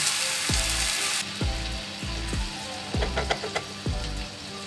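Steady bubbling and sizzling of sweet sauce for tofu satay simmering in a pan, with soft pops and occasional louder spattering, close by and without talk.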